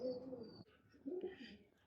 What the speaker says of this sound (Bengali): এ হচ্ছে কবুতর, মাশাল্লাহ অনেক বড় সাইজ, একবারে ফ্রেশ।